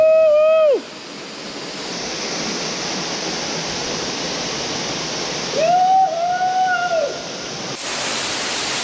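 Steady roaring rush of a waterfall in Bali, loud and continuous, with a couple of short whistled tones rising over the spray.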